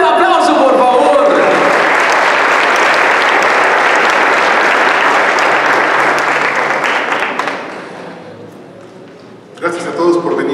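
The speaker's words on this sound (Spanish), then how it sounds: "¡Fuerte aplauso, por favor!" Loud, sustained audience applause fills an Independence Day celebration hall in Mexico, dense and steady for several seconds before tapering away, with a voice returning at the end.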